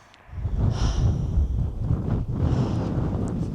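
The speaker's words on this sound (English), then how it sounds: "It's a bit windy up here," Wind gusts buffet the microphone at a high Norwegian fjord viewpoint, a steady loud rumbling roar that swells and dips for several seconds, with no talking.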